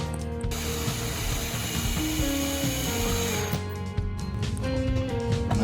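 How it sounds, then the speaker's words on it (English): A small electric motor in a homemade toy garbage truck whirs and clicks steadily as it spools fishing line, a continuous mechanical ratcheting hum with shifting tones, close and fairly quiet. "that's the motor that will drive the fishing line that pulls up the grabber"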